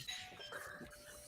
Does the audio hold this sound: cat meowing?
no